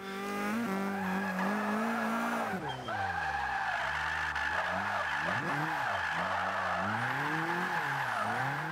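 A Scion tC in the Forza 5 video game drifts under heavy throttle, its low-horsepower engine droning steadily while the tires squeal continuously, with pitch sweeping up and down through the slides.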